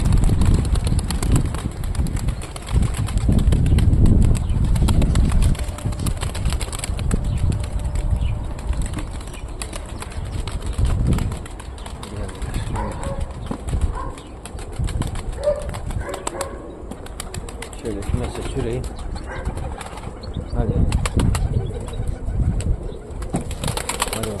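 Pigeons flutter and shuffle close by, with wings flapping in bursts and soft cooing amid a busy, rustling enclosure.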